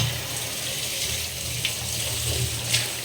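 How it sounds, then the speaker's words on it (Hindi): Water drawn from a clay pot in a home kitchen, a steady close trickle and splash with a couple of small clinks against the pot. "यहाँ से हांडी से पानी ले लेते हैं"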